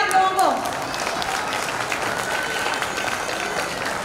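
An audience at a school Janmashtami celebration claps after a stage performance, steady dense applause throughout with a brief tonal sound and a voice at the start.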